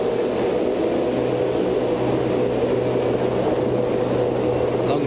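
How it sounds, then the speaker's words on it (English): V8 Supercars race cars sit revving on the starting grid at Oran Park, a continuous, moderately distant engine drone with no clear voices over it. "you can hear the cars in the background"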